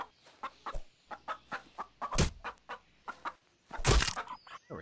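A chicken in the Gone Survival video game clucks in a quick, steady series of short notes, with two louder bursts of squawking breaking in partway through.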